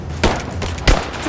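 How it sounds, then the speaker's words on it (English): Gunfire in the video game Rise of the Tomb Raider: two sharp, loud shots about half a second apart over a rumbling battle ambience. "Taking fire!"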